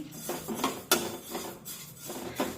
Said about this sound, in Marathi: तीळ एकसारखे उलटण्याने असे हलवून घ्यायचे